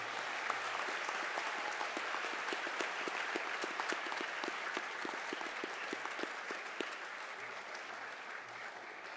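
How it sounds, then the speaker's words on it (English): An audience claps steadily through a school Veterans Day program, a dense, even wash of many hands that keeps going at moderate volume, a little distant, with no talk over it. "Please join me in a round of applause for all of the people that helped."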